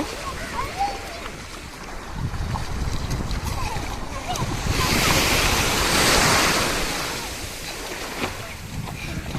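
Sea waves surging and washing ashore while children bathe in the sea on a hot, sunny day, a rolling surf that swells to a louder crash midway, with wind buffeting the microphone and voices talking over it.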